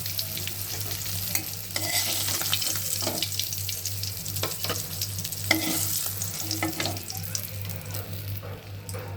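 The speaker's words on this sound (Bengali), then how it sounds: "বেশি কড়া করে ভাজবো না, হালকা করে ভেজে নিচ্ছি।" Rohu fish pieces fry gently in a pan, a soft continuous sizzle with occasional stirring and clinks over a low, steady kitchen hum.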